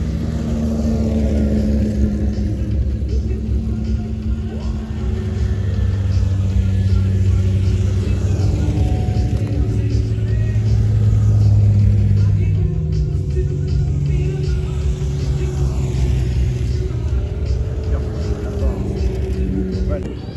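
Expensive cars driving past on snow and ice at St Moritz, a deep continuous engine rumble rising and falling as vehicles pass, with someone talking over it throughout.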